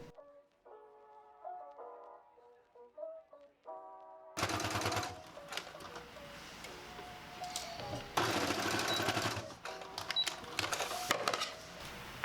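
A sewing machine top stitching a sleeve onto a dress bodice makes a rapid mechanical chatter in loud runs after a quieter opening stretch of faint tones, with no talking.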